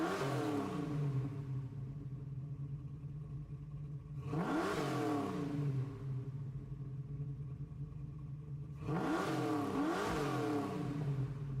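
A 7-liter Ford Mustang Boss 429 in a racing game, engine droning steadily with two sharp revving surges that climb and fall, loud and close with no talk.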